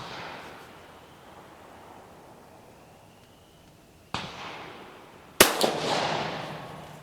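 Two sharp, loud gunshots from an Italian 1870/87/15 Vetterli rifle fired at a target, each followed by a short echoing decay, the second louder and closer, with quiet outdoor ambience between.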